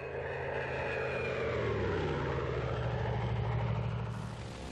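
A propeller aircraft engine drones steadily in flight in the IL-2 1946 flight game during the Checkmate campaign, a constant buzzing roar whose pitch slides slowly as the engine note shifts, heard alone with no voices.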